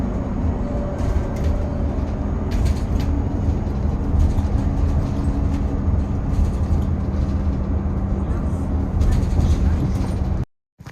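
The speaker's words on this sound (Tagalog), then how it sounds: "Ito po yung bus namin dito." A family's bus rumbles along at a steady, loud pace, its engine drone and road noise filling the space with faint rattles, before the sound cuts off abruptly near the end.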